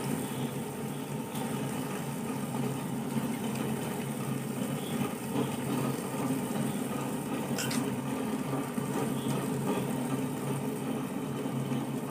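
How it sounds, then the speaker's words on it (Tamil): Wet grinder churning soaked urad dal with a little water for idli and dosa batter, a steady continuous mechanical whir and watery grinding hum that stays even and fairly loud throughout, with no talking. "இனி நம்ம கிரைண்டரில் போட்டு அரைக்கலாம்."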